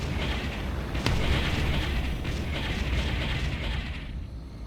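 Artillery barrage in the Ground Control strategy game, a sustained rumbling roar of distant explosions with a sharp crack early on, fading slightly at the end.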